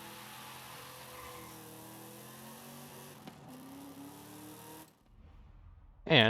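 Holden Torana engine in Forza Horizon 5 at a mountain-top volcano rally, a steady droning hum with layered harmonics that drops away, followed by a brief loud burst at the end.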